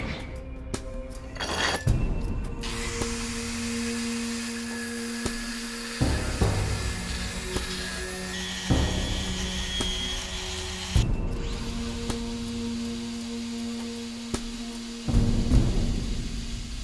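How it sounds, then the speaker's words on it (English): Hand file rasping steel by hand on the inner core of a san mai knife, steady scraping strokes with brief pauses and harsh metallic ringing, close and fairly loud with no talk. "I'll be using my trusty hand file that I've been using for a couple of years now"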